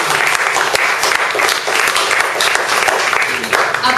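Audience applause in a hall at a cancer awareness talk, dense and steady clapping throughout, loud and close, with a voice faintly present beneath.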